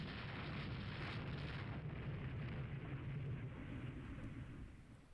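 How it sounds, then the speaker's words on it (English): Naval gunfire in the warship strategy game Rule the Waves 3 rolls as a continuous dull booming rumble, distant and muffled, fading slightly toward the end. "immediate gunfire noises."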